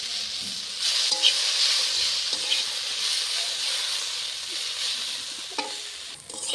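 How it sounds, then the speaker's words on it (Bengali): Malabar spinach seeds fry in a pan with a continuous soft sizzle, broken by occasional stirring scrapes and clicks close to the pan. "আমার পুঁই শাকের বিচিটা ভাজা হয়ে গেছে এভাবে ভেজে খেয়ে দেখবেন"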